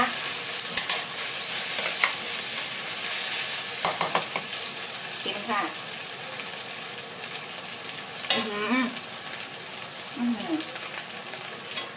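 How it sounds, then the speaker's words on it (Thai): Rice being stir-fried with fermented fish, red onion and bell pepper, a constant close sizzle broken by repeated scraping and clinking of a spatula against the pan, with faint voices in the background. "เอามาผัดให้เข้ากันอีกรอบนึง"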